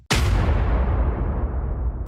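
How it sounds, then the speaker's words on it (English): Wind buffeting a microphone outdoors beside an OBS-era Chevy Silverado pickup, a sudden loud low rumble that slams in and roars steadily for about two seconds with no voices. "it's a little bit windy out here. Apologize for the background noise."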